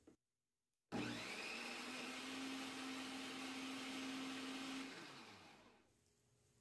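A blender whirs steadily for about four seconds mixing bread dough ingredients with warm milk, loud and close after a brief silence, then slows and winds down at the end.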